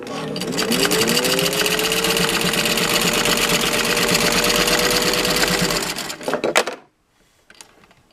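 A Singer 15-91 sewing machine runs steadily at speed for about six seconds with a dense, even mechanical whir, then slows and stops, leaving a few faint clicks.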